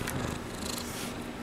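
A cat purrs close up, a steady low rumbling hum that runs continuously and alone with no talk over it.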